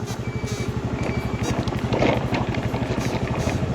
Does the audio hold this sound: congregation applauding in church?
no